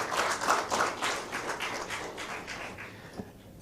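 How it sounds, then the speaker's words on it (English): Audience applause rings out as a dense, crackling wash of many clapping hands, loudest at first and then thinning and fading over a few seconds. "I think everyone does deserve a round of applause."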